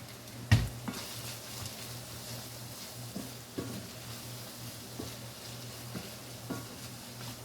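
Fresh corn seasoned with black pepper sizzles steadily in a pan, a soft continuous hiss with a sharp knock near the start and occasional faint clicks of stirring, close and quiet.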